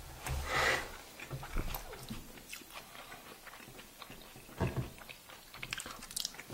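Two people chew and bite food together at a home meal, with soft crunchy mouth sounds, a louder burst early and another near the end, close and fairly quiet with light breathing.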